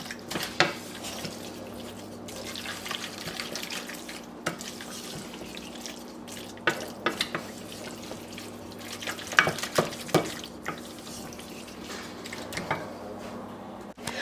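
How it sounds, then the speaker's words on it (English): A spoon stirs and scrapes a cheesy artichoke dip mixture in a pan over medium-low heat, giving intermittent clinks and soft wet scrapes against a steady low hum, with no talking. "just mix our mixture here on medium-low heat for about a minute or so"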